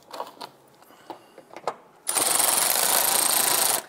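A power tool drives a screw into a plastic wheel liner on a 2002-2008 Dodge Ram 1500, a sharp whirring rattle lasting under two seconds after scattered light clicks and handling noises.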